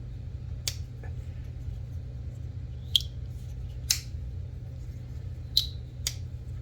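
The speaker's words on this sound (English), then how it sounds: "It makes like a swoosh sound when you open it" A Begg slip joint folding knife is opened several times, giving a few sharp, brief metallic clicks and snaps spaced irregularly over a low, steady background hum, without any talking.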